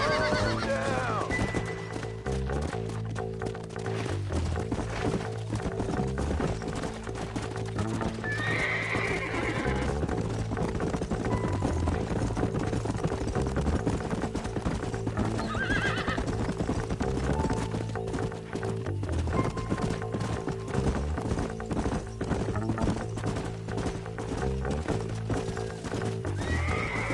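A horse in the video game Red Dead gallops with continuous rhythmic hoofbeats, close and steady, and neighs loudly more than once over the pounding stride. There is little or no talk.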